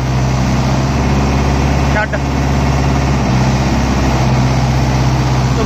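A Mahindra Yuvo 575 4WD tractor engine runs at a steady, loud, low drone close by, with a single brief knock partway through and someone talking over it.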